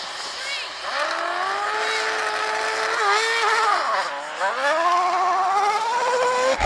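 McMurtry Spéirling and Rimac Nevera hypercars launching with wheel spin, a rising electric whine that climbs, dips and climbs again as the cars accelerate, loud and continuous under light speech.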